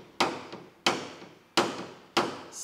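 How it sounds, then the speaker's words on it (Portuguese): A metal hammer taps a car body panel during paintless dent repair: four sharp, loud strikes evenly spaced about 0.65 seconds apart, each ringing briefly, close to the microphone with no talk. "eu vou utilizar o martelo."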